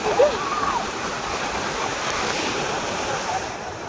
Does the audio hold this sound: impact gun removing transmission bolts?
no